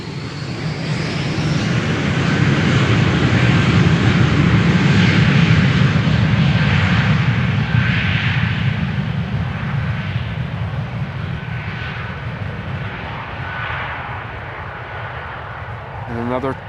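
An airliner roars down runway 36L at Amsterdam Schiphol on departure, a loud sustained engine rumble that swells and then slowly fades, with voices faintly beneath.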